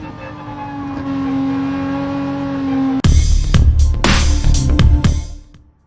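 A race car in a sim racing game lapping the Brands Hatch Indy circuit: a steady high engine drone, then a louder stretch of revving with bursts of tyre and gear noise that tails off, close and loud with no talk.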